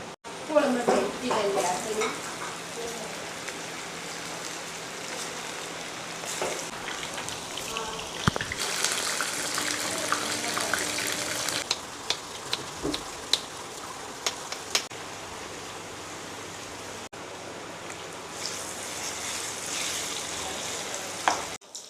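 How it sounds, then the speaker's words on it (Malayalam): Marinated chicken pakoda frying in hot oil in a pan, a steady crackling sizzle running throughout, louder bursts near the start and in the middle, with occasional clinks and stirring. "ഇനി നമുക്കിതിലേക്ക് നമ്മൾ മാരിനേഷൻ ചെയ്ത ചിക്കനിലേക്ക് ഇട്ട് കൊടുക്കാം"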